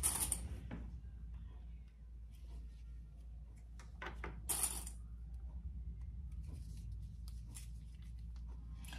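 Metal sewing clips handled during wristlet construction: a few soft clicks and small clattering taps, fairly close, scattered over a steady low hum with no speech.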